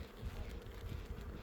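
Honey bees hum and buzz from an opened beehive, a dense continuous drone close by that holds steady at moderate level throughout.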